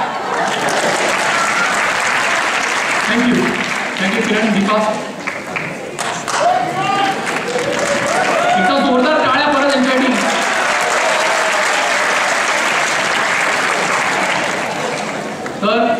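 Audience applause at a Gudi Padwa stage program, loud sustained clapping from a crowd over a long stretch, with a voice speaking briefly over it partway through.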